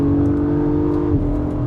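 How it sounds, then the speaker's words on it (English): A 2022 Acura MDX Type-S accelerates at full throttle, its engine a steady, loud, droning tone heard from inside the car, with no talk over it. "So full throttle, sounds great, and it rips."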